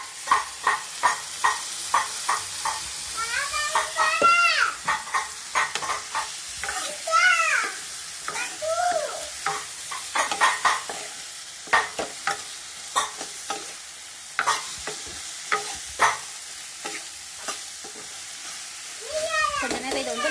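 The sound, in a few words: soya chunks frying with ground pepper and fennel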